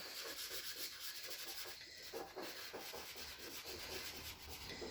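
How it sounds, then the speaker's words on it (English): Fingers rubbing green pastel into paper, a dry rhythmic scrubbing with repeated back-and-forth strokes, close and faint, with no voices. "I'm gonna rub this green in"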